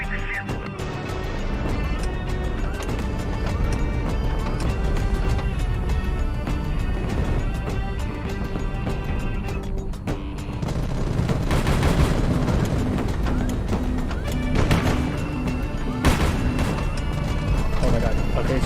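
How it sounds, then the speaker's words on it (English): A missile strikes a ship in the HighFleet naval combat game, setting off a long run of booming explosions, crashes and gunfire, loud and dense throughout, swelling heavier in the second half. "that enemy missile just hit the enemy ship"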